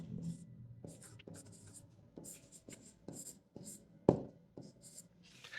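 Marker or chalk writing on a board, a series of short scratchy strokes in an uneven rhythm with one sharper tap, close and soft, no speech.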